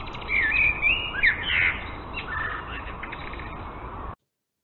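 Eurasian blackbird, a thrush known here as Amsel, sings in a European garden in winter, giving several bright, fluttering song phrases at mid distance over a steady rushing background hiss, with no voices.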